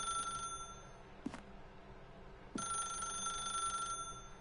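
A telephone rings in the video game The Stanley Parable: a bright electronic ring bursts briefly, pauses, then rings again for a longer stretch, with a couple of soft clicks between and no speech.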